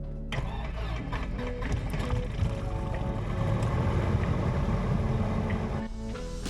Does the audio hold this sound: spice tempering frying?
no